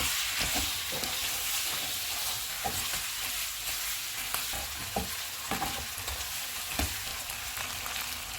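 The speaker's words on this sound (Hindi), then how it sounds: "इसमें अदरक और लहसुन का पेस्ट डालेंगे, मटन डालेंगे, चूल्हे को फुल कर देंगे और मटन का कलर चेंज होने तक पकाएंगे" Mutton pieces with ginger garlic paste and onions frying hard in a pan on full flame: a steady, dense sizzle with scattered crackles and occasional soft stirring knocks, alone with no talk.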